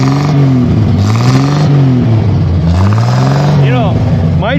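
An old car engine revs up and down repeatedly in rising and falling sweeps, loud and close, at a drag race, with a crowd murmuring in the background.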